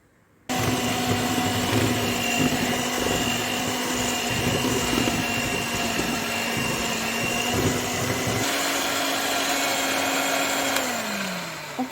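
An electric hand mixer runs steadily at low speed through tart dough of sifted custard flour and cornstarch for a pineapple cheese tart, a continuous motor whine with a slight pitch drop near the end before it winds down.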